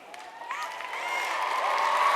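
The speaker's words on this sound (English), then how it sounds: "let's give a huge round of applause to our ag teachers" Applause and cheering from a large convention audience at the California FFA State Convention honoring agricultural teachers and FFA advisors, building steadily in volume across the moment with a dense, sustained roar of clapping.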